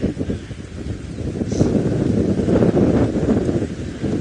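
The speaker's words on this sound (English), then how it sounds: "It might be too windy." Wind buffets the microphone during an open-vehicle safari drive at sunset in the African bush, a steady, loud, rumbling roar with gusts and no voices.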